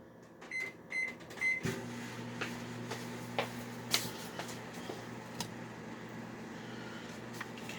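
A few short electronic beeps from button presses, then a steady low mechanical hum as a microwave oven starts running to melt ingredients, with faint clicks underneath.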